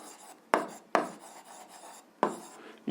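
Chalk or marker strokes on a board during an algebra lesson: four short scratchy writing bursts, close and fairly loud, separated by brief quiet gaps, with no speech.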